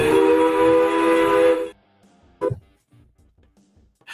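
A train whistle sounds loud and close, a sustained multi-tone blast that holds for over a second and a half and then cuts off, followed by quiet with a few brief knocks.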